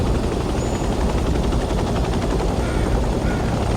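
A helicopter flies in the Vietnam-era game Hell Let Loose Vietnam, a loud, dense, continuous rotor and engine roar with rapid chopping texture, filling the whole stretch with no talk over it.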